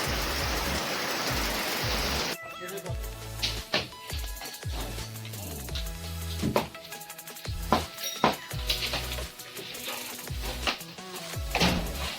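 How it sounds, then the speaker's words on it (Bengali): Rain falls at a house construction site as a dense, steady hiss for the first two seconds, then cuts off abruptly and gives way to other sounds. "আজকে আমাদের এখন কাজ স্টপ, বৃষ্টি হচ্ছে, বৃষ্টি থামলে আমরা ফের কাজ শুরু করব।"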